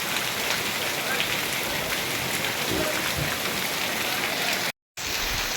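Heavy downpour of rain in Amrapur in the Gir region, a dense, steady roar of falling water that stays loud throughout, broken by a brief silent gap near the end.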